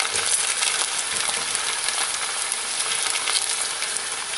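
Pieces of ginger fry in hot oil with a steady, bright sizzle and crackle that stays even and close throughout.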